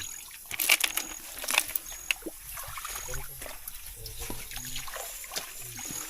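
River water trickles and sloshes nearby in a steady, gentle flow, with occasional splashes and faint background murmurs.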